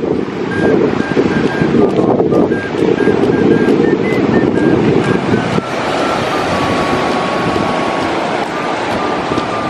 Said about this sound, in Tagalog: sa ngayon napakalakas ng alon